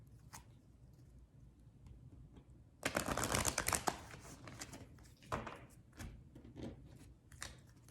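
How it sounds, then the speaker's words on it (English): Oracle cards being shuffled by hand, giving a burst of papery riffling and flicking with a few softer scattered shuffles afterward, close and fairly quiet with no talking. "I'll just shuffle these a little bit."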